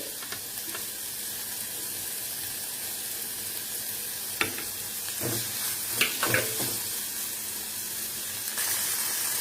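Chopped capsicum hits a hot pan for an egg recipe, giving a steady close sizzle broken by a few sharp spatula clacks and bursts of crackling in the middle.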